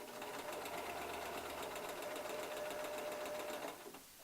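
A sewing machine back stitches at the end of the front casing on a girl's sun dress, a close, steady, rapid mechanical whir with a fast needle rhythm that runs evenly for nearly four seconds, then stops abruptly.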